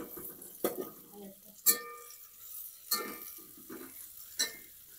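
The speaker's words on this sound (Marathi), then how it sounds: "एकदा चांगलं त्याला फिरून घ्यायचं, म्हणजे त्याला सगळं आपला तेलामध्ये कांदा बुडला पाहिजे." Onion turned in hot oil with a metal spoon: a few sharp clinks and scrapes against the pan ring out at irregular intervals over a faint, low sizzle.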